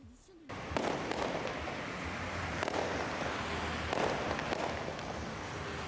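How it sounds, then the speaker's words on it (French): Firecrackers set off at midnight for New Year celebrations in Benin crackle in dense, continuous bursts after a brief quiet opening, with sharper pops standing out around the middle and near the end. "pour manifester leur joie, les populations environnantes lancent les pétards"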